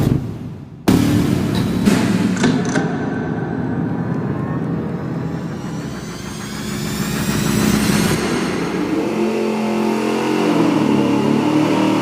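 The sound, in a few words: engine on dyno with Summit 2-chamber muffler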